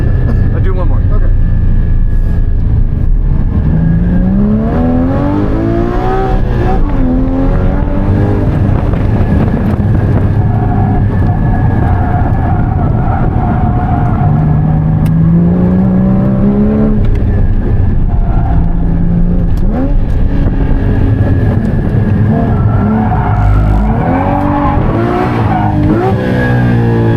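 A car accelerates hard on a race track during a drifting class, engine rising and falling in pitch with tire squeal as it spins out, loud and steady with wind buffeting and voices talking over it.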